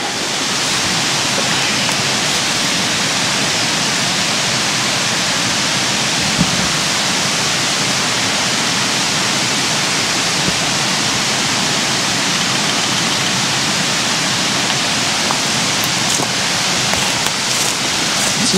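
A waterfall at Ricketts Glen State Park roars steadily and loudly, a dense unbroken rush of falling water filling the whole stretch without pause, with no voices over it.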